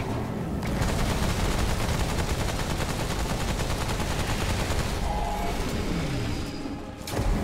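Rapid sustained gunfire pours out during a boss fight in Remnant: From the Ashes, loud and dense bursts running for several seconds before a brief drop and a final blast.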